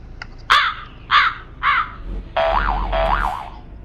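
A toy sound-effect noise maker's crow caw: three short synthetic caws in a row, followed by two longer warbling, wobbly tones, loud and close with no talking.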